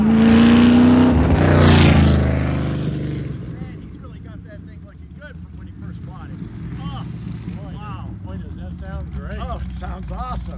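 An American Graffiti Milner Coupe hot rod with uncapped exhaust roars loudly past at close range, its engine note swelling then fading after about three seconds, followed by people talking over a lingering rumble.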